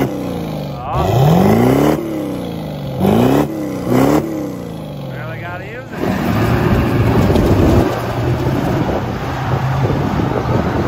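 A mud truck's engine revs in surges while driving and steering at full lock, loud and close with wind buffeting, then settles into a steady rough drone; someone talks over it.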